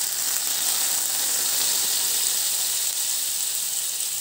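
Butter sizzling in a hot pan over a high gas flame, a steady, dense frying hiss that holds evenly and fairly loud throughout with no talk.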